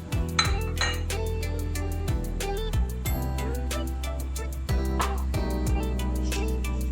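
Metal cooking pots clank and clink sharply as they are handled while water is added and the heat turned on, with a steady low hum running underneath throughout.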